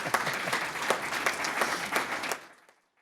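A comics forum audience claps for an introduced guest, steady, full applause with crisp individual claps that cuts off and falls quickly to silence.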